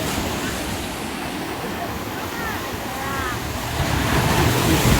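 Sea waves break on the beach at Digha, a continuous roaring surf with wind buffeting the microphone, swelling louder toward the end, with voices faintly mixed in.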